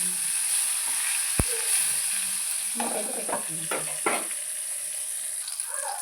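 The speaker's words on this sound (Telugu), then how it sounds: "చక్కగా అయితే మంచిగా మెత్తగా వేపేసుకోవాలి ఫ్రెండ్స్." Tomato pieces fry in a hot pan for a cabbage chutney, giving a steady close sizzle throughout, with a few stirring scrapes and a sharp knock as someone speaks briefly over it.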